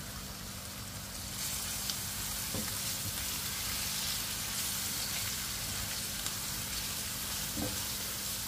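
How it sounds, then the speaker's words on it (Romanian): Pepper paste and paprika fry in a pan with a steady, loud crackling sizzle that swells after the first second, broken by a couple of faint clicks of stirring. "Nu lăsăm mult paprika la prăjit,"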